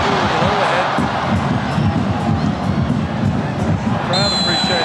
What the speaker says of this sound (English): Crowd appreciating it.